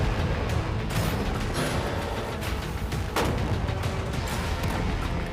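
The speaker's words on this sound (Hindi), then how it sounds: "निशाना लगाकर 20 राउंड फायर करने वाले हैं।" Aimed rounds of gunfire hit a container at a beach range, a dense continuous roar of shots and booms with a couple of sharper cracks standing out.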